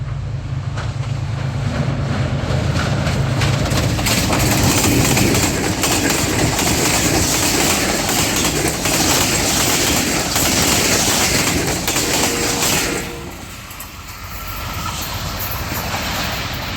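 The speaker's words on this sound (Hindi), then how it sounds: "डैक के ब्रिज के ऊपर से गुजरने वाली है 8 डॉन तेज़गाम एक्सप्रेस। काफ़ी विस्लिंग हो रही है और ट्रेन की स्पीड भी अच्छी खासी है।" The 8 Down Tezgam Express crosses a bridge at good speed, a loud, steady roar and rattle of railcars sustained for many seconds with whistling, then easing off near the end.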